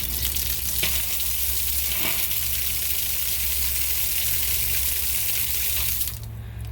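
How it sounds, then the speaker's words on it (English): Air and water rush out of a freshly opened outdoor hose bib during a pressure reducing valve replacement on a water main, a steady loud hiss and splash that continues evenly before dropping off at the end. "I'm going to open the hose bib first. You're going to hear some air come out."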